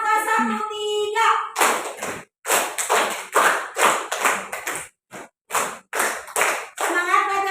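Class of children clapping a rhythmic counting pattern in a classroom, a teacher's call-outs between bursts of sharp, close hand claps arranged in short groups with brief pauses.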